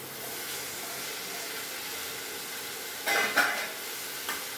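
Sprouted mung beans and chopped beans tossed into a pan with turmeric, a soft steady sizzle with a few louder scraping stirs near the end, no speech.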